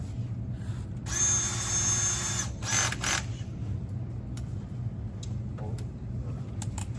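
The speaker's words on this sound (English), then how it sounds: "The easiest way to get that Welsh plug out is to drill a hole in it." A power drill whirs into the metal Welsh plug of a Tillotson carburetor in two short bursts, the first about a second long, the second briefer, then quiet workshop background.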